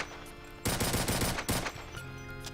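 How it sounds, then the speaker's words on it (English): Pistol fire in the video game Complex TNT Revilution: a loud burst of rapid gunshots, a brief pause, then another short burst, close and harsh over a faint background tone. "the pistol is really loud"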